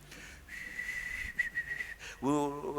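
A person whistles a sustained high note for over a second, followed by a short voiced sound, heard fairly close in a quiet church setting.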